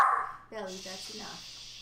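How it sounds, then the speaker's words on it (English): A dog gives a short yelping bark and whine at the very start, close by, before a person speaks to it over quiet outdoor background noise. "Sorry for the dog."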